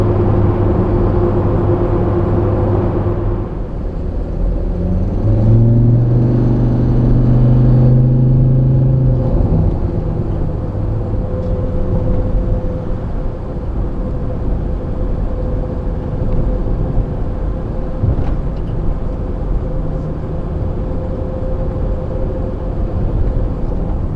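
A cheap £500 secondhand car with 163 brake horsepower and dark dials, heard from inside while driving on a road, giving a steady engine drone and road rumble with a brief shift in engine tone near the start.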